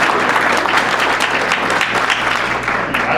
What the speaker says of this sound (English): So we got one applause.